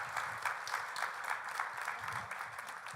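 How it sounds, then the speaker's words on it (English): A meeting audience at the Glendale Convention & Visitors Bureau annual meeting applauds, a continuous even patter of many hands, soft and somewhat distant. "Let's give Jennifer Stein and Ginger Iden a rousing West Valley round of applause."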